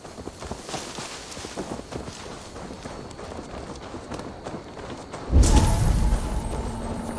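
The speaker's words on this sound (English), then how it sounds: "Now to deliver Magni his horse." Horse hooves clip-clop and thud through a steady run in Assassin's Creed Valhalla, a continuous rhythmic patter until a louder low-pitched rumble takes over near the end.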